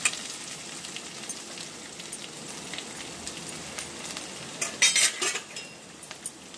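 Onions frying in a pan with masala for a chicken masala dish, a steady soft sizzle with occasional scrapes and a louder burst of crackling toward the end, no voices.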